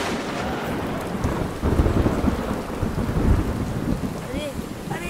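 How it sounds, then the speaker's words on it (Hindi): A thunderstorm with heavy rain: a dense, constant downpour hisses over deep rolling thunder that swells louder partway through, close and enveloping. "अरे अरे ये बारिश रुकेगा नहीं, ये तूफान भी रुकेगा नहीं।"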